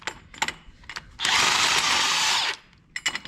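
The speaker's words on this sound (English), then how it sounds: "I'm just going to use the impact" An impact wrench spins off a car lug nut in one sustained, loud, whirring burst of about a second, with clanks and rattles of the socket before and after.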